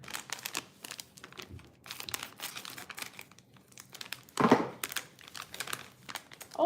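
A plastic packet of coriander powder being handled and cut open nearby, with bursts of crinkling and rustling, a brief snip or tear partway through and more crackling plastic after it.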